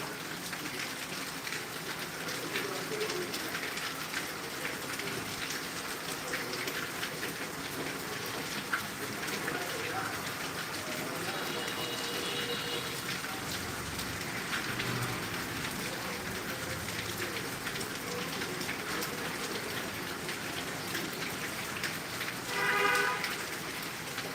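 Heavy rain pours steadily in Tangail, a dense continuous hiss of drops on surfaces that stays even and close throughout with no voices.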